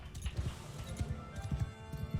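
Cavalry horses gallop in Realm of Thrones, a medieval battle game, with a steady run of rapid hoof clip-clops across the whole stretch.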